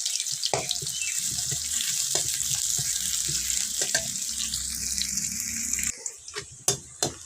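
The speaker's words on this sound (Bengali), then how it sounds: "পেঁয়াজটা একটু লাল লাল করে ভেজে নিব।" Chopped onion frying in a pan gives a continuous bright sizzle and hiss that runs for several seconds, with a few clicks and stirring knocks, then settles into quieter sputters toward the end. No one speaks.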